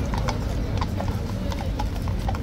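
Police horses clop their hooves steadily along a city street, the regular beats sounding close and clear over constant street background, with a person talking over them.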